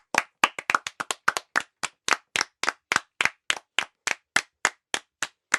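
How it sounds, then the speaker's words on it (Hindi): A small group claps briskly in a classroom to praise students after a money-concept game, about twenty sharp, evenly spaced claps close by with no talk over them. "इनके लिए तालियां हो जाएं।"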